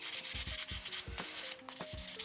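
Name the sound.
buffing the top of a fingernail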